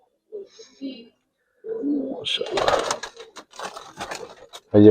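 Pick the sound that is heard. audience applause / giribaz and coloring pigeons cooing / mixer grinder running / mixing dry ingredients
giribaz and coloring pigeons cooing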